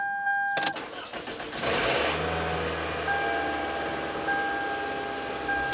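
2003 Toyota Camry with a 2.4L engine cranking and firing up after an exhaust replacement, a quick starter whirr followed by a steady idle with a slight rattle, heard close and moderately loud.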